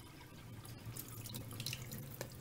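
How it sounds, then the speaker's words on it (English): Water drains out of the large drainage hole of a condenser tumble dryer's water container into a sink, giving a steady, close trickling pour with faint splashing throughout. "Let the water drain out of the large hole."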